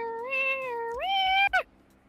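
A person imitates a cat, giving two drawn-out meows, the second rising higher and louder before ending in a short breathy cutoff; the sound is close and alone.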